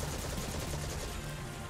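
Rapid gunfire at a crystal in Destiny's Shattered Throne, a fast steady rattle of shots running through the short moment at moderate loudness.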